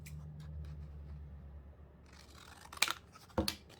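Scissors cut a 5-inch paper strip for a craft project, with two crisp, close snips about half a second apart after a quiet stretch of faint handling noise.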